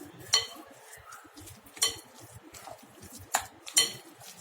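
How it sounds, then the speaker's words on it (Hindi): Moong dal pakora batter with green chilli is mixed in a bowl, with a spoon clinking sharply against the sides four times amid soft, quieter stirring and no speech. "इन सब चीजों को अच्छे से मिक्स कर लेते हैं।"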